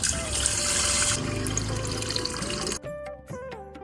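Sweet liquid is poured for Ugadi pachadi, a steady close-up splashing pour that runs on for a few seconds before stopping abruptly, leaving faint dripping.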